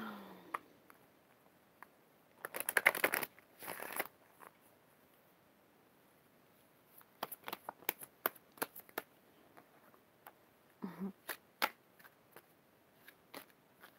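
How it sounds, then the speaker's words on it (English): Crisp riffling bursts of tarot cards being shuffled, a longer cascade early on, then scattered quick flicks and taps separated by quiet pauses. "my hand is so tired from shuffling."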